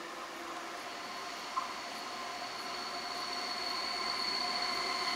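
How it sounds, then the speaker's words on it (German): A BayernBahn train rolls through Marktbreit station in Germany, a faint, steady rumble with a thin tonal whine that slowly swells as it passes, heard alone without talk. "Bayerbahn mit ihrem Zug Richtung Donauwörth, Nördlingen, Gunzenhausen."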